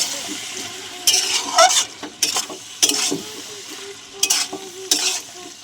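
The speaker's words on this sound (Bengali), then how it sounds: "গরম মশলা দিয়ে দিলাম, ঘি দিয়ে দিচ্ছি, ভালো করে নাড়িয়ে নেব" A spatula stirs cabbage and paneer with garam masala and ghee in a pan: about six bursts of scraping and clattering, each rising over a softer background sizzle, close and lively.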